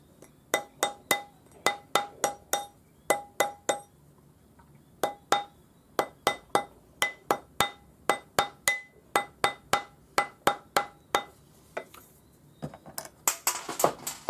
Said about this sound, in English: Use your rawhide hammer